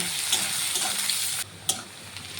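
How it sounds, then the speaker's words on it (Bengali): Chopped onions frying in hot oil, a close, loud, dense sizzle that cuts off abruptly partway through and then carries on more quietly with a faint clatter, no voices. "দিয়ে দেব পেঁয়াজটাকে আমি হালকা একটু ভেজে নেব"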